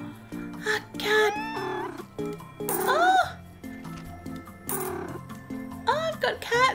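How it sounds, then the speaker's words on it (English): Several short, rising cartoon cat meows from the street-builder video game Minami Lane come in quick bursts over soft, tinkling game music. "Did I just hear a cat?"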